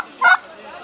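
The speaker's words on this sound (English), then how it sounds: "Turkey." A turkey lets out a single short, loud gobble, a quick burst that fades away almost at once.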